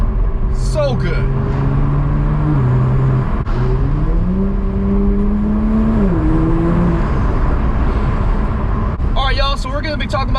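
A Toyota Supra A90 fitted with an AWE Touring Edition exhaust drones loudly as it cruises, its pitch stepping up and down with gear changes, under continuous interior road noise, with brief voices at the start and end.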